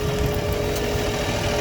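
A tractor engine idles in a steady low rumble with a constant hum, close and continuous.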